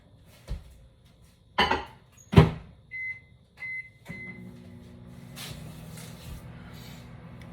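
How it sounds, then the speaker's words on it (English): Door clunks and beeps as a microwave is shut and started, then its low steady hum runs on through the rest of the clip. "you're going to put them back into the microwave for another 45 seconds"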